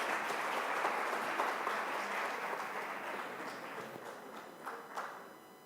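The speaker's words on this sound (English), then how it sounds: "A round of applause, please." Soft applause from a conference audience, many hands clapping at a distance, slowly thinning and fading, with a few louder claps near the end.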